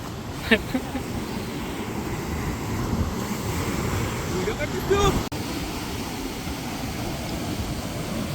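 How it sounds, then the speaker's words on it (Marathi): Rough, churning Arabian Sea surf roars steadily at Harihareshwar beach, with wind buffeting the microphone, big waves churning continuously, and a few faint voices briefly in the mix. "आणि खूप मोठ्या लाटा पण मारत आहेत."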